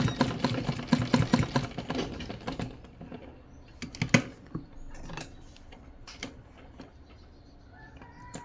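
A sewing machine stitches ladies' pants in rapid clattering bursts for the first few seconds, then slows to scattered ticks and clicks near the end.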